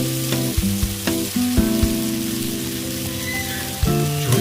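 Boiled chow mein noodles hit a hot pan with spices and sizzle steadily and loudly, with a few scraping knocks at the start and end over a sustained tonal hum.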